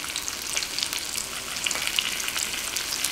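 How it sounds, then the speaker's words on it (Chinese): Chicken cutlet pan-frying over low heat gives a steady, close sizzle with fine crackling spits throughout, and no voices. "煎鸡排不用老去翻它，基本等一面差不多煎制好了再翻过来"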